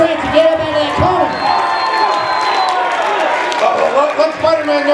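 A live indoor wrestling crowd at a Supercon convention show cheers and shouts, with loud overlapping voices, whoops and scattered applause alongside an announcer talking throughout.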